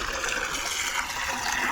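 Hot water pours steadily into a large pot of potato wafers on a big stove, a continuous, moderately loud splashing rush heard alone.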